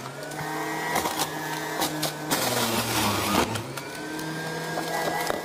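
A juicer extractor runs steadily while carrots are fed in, giving a continuous motor whir with harmonic hum and bursts of grinding crunch as pieces hit the blade, loud and close with no talking.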